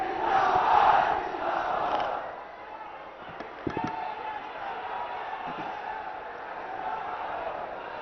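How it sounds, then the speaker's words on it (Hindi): A large crowd at a Samajwadi Party political rally for Akhilesh Yadav roars and claps loudly at first, then the cheering fades into a steady murmur with a few sharp claps. "जोरदार तालियां होनी चाहिए देश के नेता, भारत के भविष्य आदरणीय अखिलेश यादव जी के लिए"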